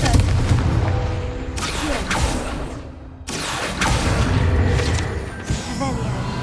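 Repeated booming blasts from the Confringo spell in Hogwarts Legacy, loud close explosions with a pause in the middle, mixed with game effects and a voice.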